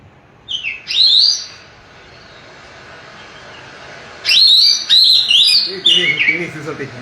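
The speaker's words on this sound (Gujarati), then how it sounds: "દૈયળ આપણા નજીકનું સૌથી ગાયક પક્ષી કહી શકો તો દૈયળ છે. સુંદર મજાની સિસોટી વગાડે" Oriental magpie robin singing a bright, whistled song in a few separate phrases: a short burst near the start, then a longer run of varied whistles and chirps, fairly close and clear against a quiet background.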